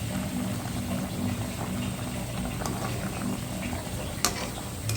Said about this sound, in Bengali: দেখুন বন্ধুরা, জলটা ফুটে উঠেছে।